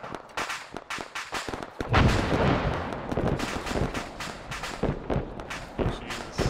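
Gunfire exchange in ARMA 3, with irregular sharp shots at first, then a heavy booming blast that rumbles on, followed by more scattered cracks and reports at mixed distances.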